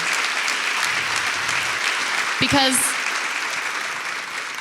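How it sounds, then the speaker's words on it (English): Sustained applause from a large audience at a bipartisan senators' event, steady and dense throughout, with a brief spoken word cutting through midway. "Yes, round of applause, absolutely."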